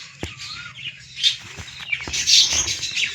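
A pet cockatiel gives a run of short, bright chirps and whistled calls close by, interspersed with a few soft clicks and thumps, with no one talking.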